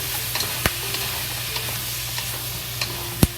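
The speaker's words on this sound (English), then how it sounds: "Now we add the fried pork into it." Fried pork being stir-fried in a wok for pineapple sweet and sour pork, giving a loud constant sizzle with a few sharp spatula knocks against the pan and no voices.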